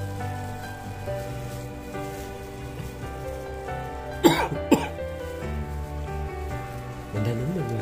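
Two short, sharp coughs from someone standing outside in slightly cold weather while pressing egg noodles through a Philips machine, heard over a steady hum of background tones.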